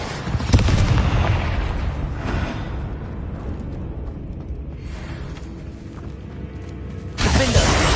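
A Bombarda blasting spell in the Hogwarts Legacy video game: loud booming explosions with rumbling debris, a sharp burst near the start and another near the end, over continuous combat noise.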